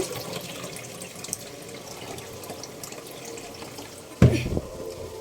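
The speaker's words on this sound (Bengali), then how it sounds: "তো এখন আমি চালটা ভালোভাবে ধুয়ে নিচ্ছি।" Rice is washed under a running tap, with a continuous soft trickle of water and faint handling noise, then a louder splash and gush near the end.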